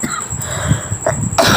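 Coughing from a woman, a few short harsh coughs spaced across the moment, close and fairly loud with no speech.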